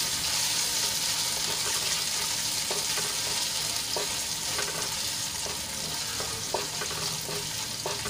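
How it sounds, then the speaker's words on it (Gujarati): Green chilies and ginger sauté in hot oil for a sabudana khichdi, a steady dense sizzle and crackle running throughout with occasional stirring clinks, close and fairly loud with no talk. "હવે તેલમાં સરસ રીતે થોડુંક સાંતળી લઈશું મરચાં અને આદુને।"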